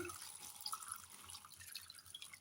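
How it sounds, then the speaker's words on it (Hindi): Water poured into a cooking pot of salted chicken for karahi, a steady close trickle and splash running without pause. "इतना पानी डालूंगी ताकि ये इसमें"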